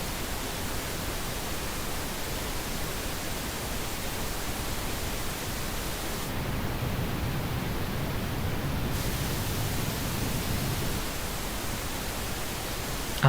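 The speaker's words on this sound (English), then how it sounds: "get your ears used to this pink noise" Steady broadband pink noise hisses continuously at an even level, with a slight shift in tone partway through as the upper range dips briefly.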